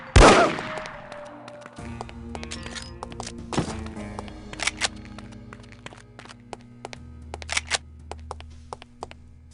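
Sharp gunshots from the spy shooter video game No One Lives Forever: a heavy blast at the start, then scattered single shots and quick clicks over a low humming background, fairly close and intermittent.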